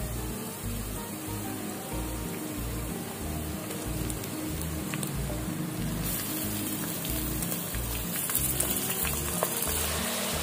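Pieces of mutton dropped into golden-brown fried onions in hot oil for biryani, giving a loud, steady crackling sizzle that spreads evenly and keeps going, close and continuous with no talking.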